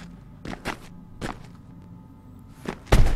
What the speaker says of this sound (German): stampf doch mal ein bisschen mehr rum mit deinen Plattfüßen